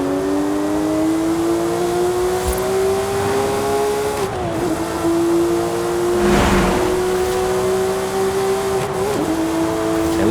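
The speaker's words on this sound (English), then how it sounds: "I love all the nuances with engaging gears and clutch and everything." A Porsche 997 GT3 in Forza Horizon 5 climbs through the revs with a loud, steady engine howl, dropping in pitch at two clean gear shifts before rising again.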